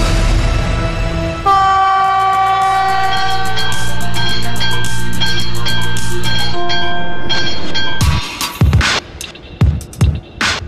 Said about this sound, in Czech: Ukázku toho, co dělá podvozek, když vagón jede rychlostí 100 km za hodinu po ne právě dvakrát udržované železniční trati.